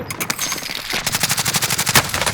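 Automatic machine-gun fire in the online shooter Call of Duty Warzone: a few scattered shots, then a long, rapid, evenly spaced burst, loud and close.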